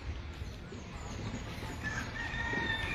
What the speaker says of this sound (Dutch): En de geluiden van vogels en de haan.